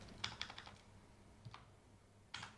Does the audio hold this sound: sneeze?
no